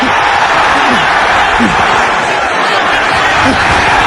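A football stadium crowd roars in a dense, constant wash of cheering noise at an XFL game, loud and unbroken, with a commentator talking over it.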